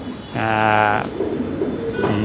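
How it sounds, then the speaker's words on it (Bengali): Racer pigeons, males and females kept for racing, give a loud, close, drawn-out coo followed by a softer second call, with background noise and no clear speech. "মাদি কবুতর এবং নর কবুতর যেগুলো দিয়ে আমরা রেস করে থাকি"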